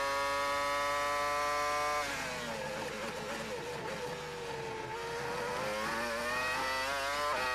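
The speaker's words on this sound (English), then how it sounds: "the Mercedes V10 engine working hard in the back of the McLaren here" Mercedes V10 engine in a McLaren Formula 1 car racing at the 2002 Canadian Grand Prix, a loud, continuous high-pitched wail that drops briefly as the car lifts off, then climbs again under hard acceleration.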